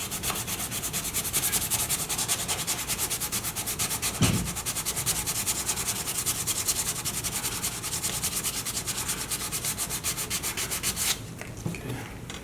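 Continuous abrasive rubbing as plastic repair filler is sanded down, loud and steady with a rhythmic back-and-forth scrape, briefly pausing near the end.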